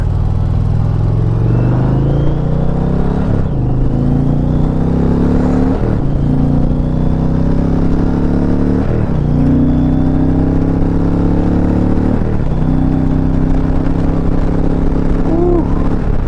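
A 2021 Indian Challenger Limited motorcycle engine accelerating on an open road, loud and steady with rising pitch through several gear changes, wind rushing throughout.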